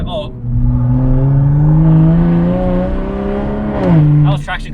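Toyota Supra time attack car accelerating on Pikes Peak, loud rising engine drone from inside the cabin, dipping briefly as traction control cuts power, with voices in the car at the end.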